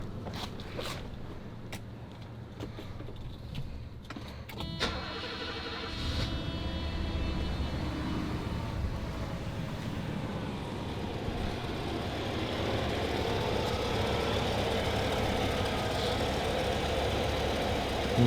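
A 1986 Mercedes-Benz 560 SEC engine cranks with several clicks, fires up, then settles into a steady, even idle that continues close by.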